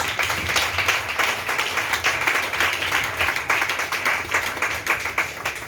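A church congregation claps steadily and enthusiastically, a dense continuous wash of hands that stays loud throughout with no break.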